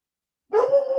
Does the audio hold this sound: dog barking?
yes